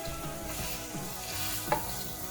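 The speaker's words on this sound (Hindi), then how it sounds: "अब इन सारी वेजिटेबल्स को ऐड करने के बाद हम इसको अच्छी तरीके से स्टर फ्राई करेंगे।" Mixed vegetables for Chinese fried rice stir-fry in a hot pan with a soft continuous sizzle and repeated scraping stirs, fairly quiet, with one brief sharp clink near the end.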